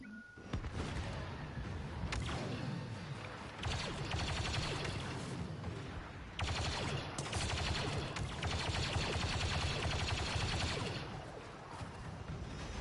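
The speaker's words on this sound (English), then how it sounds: "being blown up by grenades and rocket launchers, plasma blasters, and turrets" Star Wars Battlefront 2 combat with dense, continuous blaster and gunfire bursts, rapid rattling volleys and heavy blasts layered over each other at close range, almost no pauses between shots.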